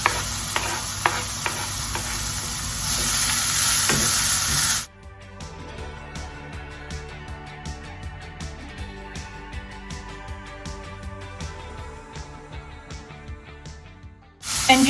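Leek going into a hot pan alongside cooking onions for tomato and leek soup gives a loud, steady sizzle for about five seconds, which then cuts off abruptly to quieter, rhythmic background music.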